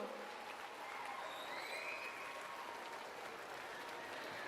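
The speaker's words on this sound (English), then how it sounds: "Please clap for your parents, your families who traveled hundreds of miles to come see you." A university commencement crowd claps for parents and families, a faint, distant wash of steady applause with some scattered voices and whistles mixed in.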